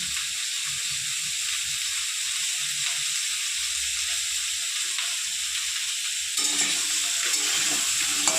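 Pointed gourd with salt, turmeric and chili powder fries in a pan with a continuous hissing sizzle that brightens and grows slightly louder toward the end.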